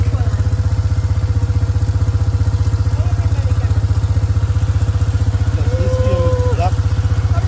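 A motorcycle engine runs steadily throughout, with a loud, close, pulsing low rumble as a bike is ridden along a road in Jamaica; brief whistling tones rise faintly above the engine near the end.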